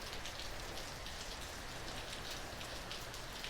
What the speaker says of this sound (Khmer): មេឃភ្លៀង